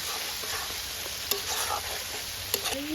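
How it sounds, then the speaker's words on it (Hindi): Chopped onions fry in a pan over a steady, close sizzle, with a couple of soft utensil clicks and no voices. "प्याज को मैं गोल्डन ब्राउन करके अच्छे से फ्राई करूँगी"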